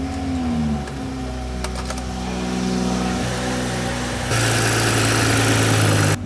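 A BMW M340i G20 with a flex fuel kit fitted is started and settles into idle, a steady close engine hum with small clicks, then a louder rushing hiss near the end.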